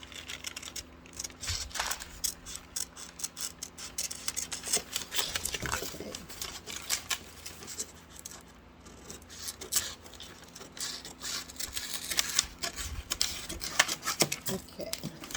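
Scissors cut along a line through a stiff oaktag paper pattern for a bodice, giving a long run of close, irregular crunchy snips and rustles with occasional handling of the paper.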